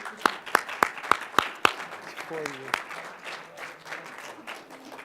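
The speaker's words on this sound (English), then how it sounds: "give them a round of applause, please" Symposium audience gives a round of applause that starts with a few loud, sharp individual claps in a quick rhythm, then becomes a softer scattered patter with a brief voice.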